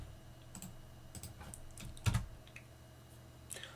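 Typing a terminal command on a computer keyboard: quiet, close key clicks in an irregular patter over a few seconds, with one heavier keystroke partway through, like a press of Enter.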